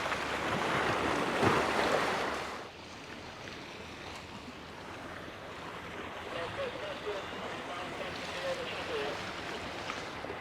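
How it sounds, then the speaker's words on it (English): Motorboats running offshore past a sunny Cyprus shoreline, a broad wash of engine and surf noise that swells loud for the first couple of seconds, then settles into a steadier, softer rumble with wind. "Just boats after boats after boats."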